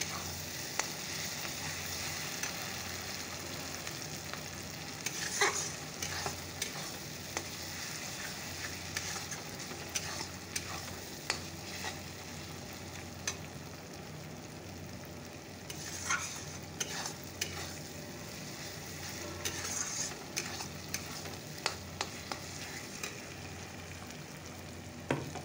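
Spice masala frying in oil in a pan as it is stirred, a soft, steady sizzle with repeated scraping and occasional clicks of a spoon against the pan, close but quiet, continuing throughout with no voices.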